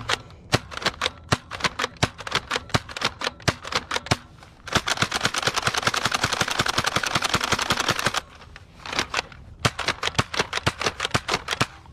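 A Dart Zone Magnum X2 Superdrum foam dart blaster fires downrange in sharp, rapid clicking bursts: quick single shots, then a dense continuous volley, then more shots, loud and close.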